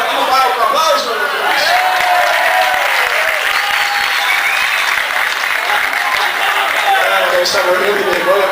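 A theatre audience at a Brazilian awards show breaks into loud, sustained applause with cheering voices mixed in, filling the whole stretch at steady intensity.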